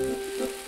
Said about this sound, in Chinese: 起油锅，爆香葱姜蒜、青红辣椒片， 倒入鱼片